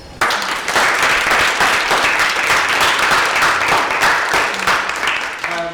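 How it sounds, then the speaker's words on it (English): Loud, sustained audience applause at an event introduction, dense clapping filling the room for several seconds before tapering slightly at the end. "let's give a big round of applause."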